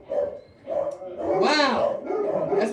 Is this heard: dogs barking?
yes